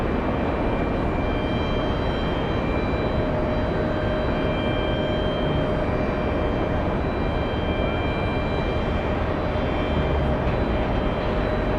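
An airplane roars steadily on the ground at JFK airport, preparing for takeoff: a loud, continuous broadband engine rumble with a faint steady whine, unbroken for the whole stretch and with no voices over it.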